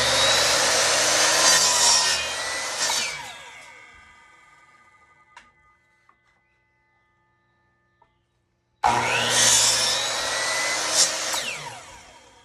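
A power saw cuts through wood boards in two loud, close passes, the blade whining down into near silence between the cuts before the second cut starts.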